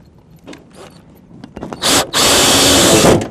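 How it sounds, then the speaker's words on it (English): A power drill drives screws during installation of a direct vent fireplace, with a few short trigger bursts before a loud, sustained whirring run that holds steady to the end, close by. "Now we'll just install our screws."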